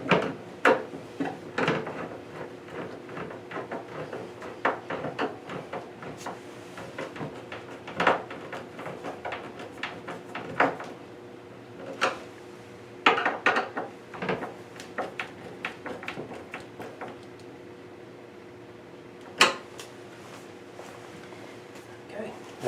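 A cabinet door is fitted to a bathroom vanity with hinge screws, giving scattered clicks, taps and light mechanical knocks under continuous voices at close range.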